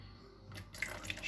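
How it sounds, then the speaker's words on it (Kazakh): Warm milk poured into a bowl in a home kitchen while making uchpuchmak dough: a short, close liquid trickle and splash, heard alone without talk. "жылы сүтті ыдысымызға құямыз"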